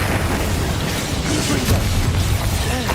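An Expulso spell goes off in the Hogwarts Legacy game as a loud, booming blast with a rumbling body. Crackling debris and scattered impacts follow over a few seconds.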